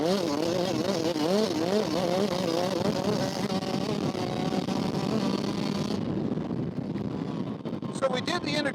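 A 2020 Yamaha YZ125X two-stroke dirt bike is ridden in the desert, its engine rising and falling steadily with wind noise. Talk runs over it throughout.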